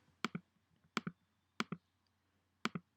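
Computer mouse gives four crisp double clicks, each a quick press-and-release pair, spaced irregularly and close against a quiet room background.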